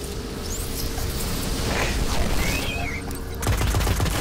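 Moon gun fires in Destiny, a steady stream of rapid shots rattling throughout over game ambience, ending in a heavier burst near the end.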